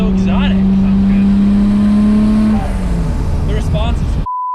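Nissan R34 GTR with its RB26 engine and titanium intakes makes a loud, steady wide-open-throttle pull, holding a strong drone before the revs drop away, with brief shifts and rising tones near the end.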